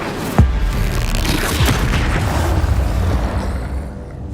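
In Hogwarts Legacy, the Incendio fire spell goes off with a sharp boom, followed by a dense, roaring blast of flame that holds steady for several seconds and then fades.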